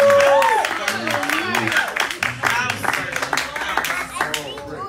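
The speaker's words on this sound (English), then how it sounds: "Everybody give a round of applause for Rashard." An audience at a Christian worship interview event applauds for a worship artist, brisk clapping mixed with voices talking over it, starting loud and gradually thinning.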